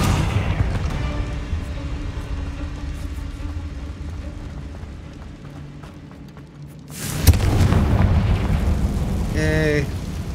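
Confringo fire spell explosions in the Hogwarts Legacy video game: rumbling blasts over game combat noise, a sharp loud burst near the middle followed by dense crackling and magical chimes.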